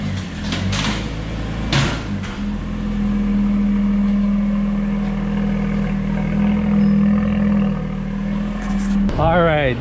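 A Volvo S60 T6 with a Stage 2 tune runs on a dyno, its engine droning steadily at a loud, even pitch for several seconds before a sharp cutoff and a rising whine at the end.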